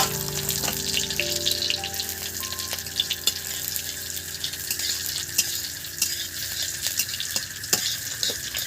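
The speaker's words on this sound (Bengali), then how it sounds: "আর একটু জিরা দিয়ে দিলাম এটা সাই জিরা" Shahi cumin seeds sizzle in hot oil in a pan for fried rice, a bright continuous frying hiss with light stirring clicks, alone and fairly loud throughout.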